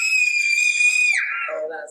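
A voice imitating a chilling scream: one long, loud, high-pitched wail held steady before sliding down in pitch at the end, close and alone.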